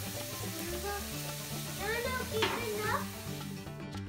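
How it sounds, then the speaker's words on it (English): Chopped onion sautéing in a pan gives a steady, moderately close sizzle and frying hiss, with a few stirring scrapes partway through, under continuous background speech. "onion chopped and saute it for a few minutes"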